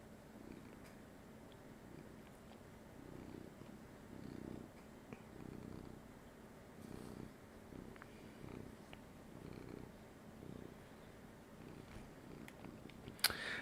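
A cat purrs steadily and up close, the soft rumbling pulses repeating in an even rhythm for the whole stretch, with no talking over it.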